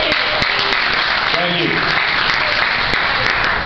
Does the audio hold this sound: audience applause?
yes